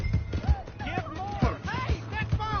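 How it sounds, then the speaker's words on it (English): Horse in Red Dead Redemption 2 clip-clopping with thudding hoofbeats and letting out a whinny, with voices talking over it. "Hey, that's my horse."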